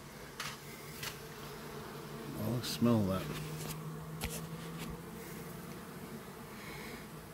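Honey bees fly around a backyard beehive, their buzzing steady in the background with one bee passing close, while a person speaks briefly nearby.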